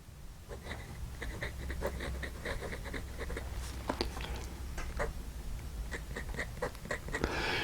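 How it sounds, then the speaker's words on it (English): An extra fine steel nib on a Delike New Moon fountain pen scratches across paper in quick, close, fine strokes, a steady run of small ticks against a faint background hum. "I think you can hear right away that this is certainly a little scratchy, which I attribute to being an extra fine nib"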